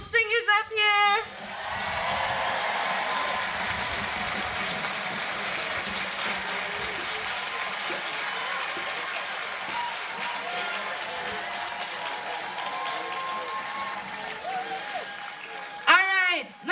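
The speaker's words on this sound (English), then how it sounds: "can I get a round of applause for my beautiful singers up here?" A crowd at an outdoor Black Lives rally in Bozeman applauds the singers, sustained clapping and occasional whoops going on for many seconds, with brief speech at the very start and end.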